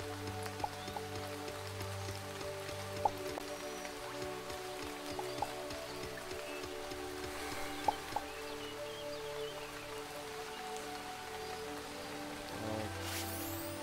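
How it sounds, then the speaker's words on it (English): Steady rain falls in the video game Starbound, a soft continuous hiss with scattered louder drips, heard alone under a constant low ambient music bed. "And here comes the rain."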